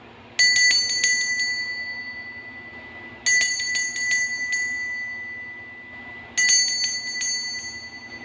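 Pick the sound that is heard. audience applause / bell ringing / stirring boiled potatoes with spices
bell ringing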